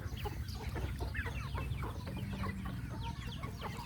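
Young Burmese chickens, gray chicks from a home-bred line, cluck and peep continuously at a farm, soft overlapping chirps and clucks over a low steady hum.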